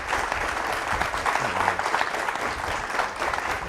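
A crowd at a K9s For Warriors service-dog graduation ceremony gives sustained applause, a thick, even patter of many hands clapping at steady volume for the whole stretch.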